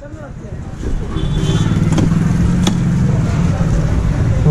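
A KTM 390 Adventure motorcycle pulls away after servicing, its engine a low, steady rumble that builds and holds, with someone talking over it.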